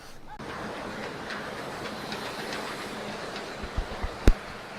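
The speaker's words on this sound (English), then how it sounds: "It's a Christmas monorail." Riding aboard a Disney monorail train at Walt Disney World during the Christmas season: a steady interior rumble of the moving car, with a few brief clunks and squeaks toward the end and no clear talk.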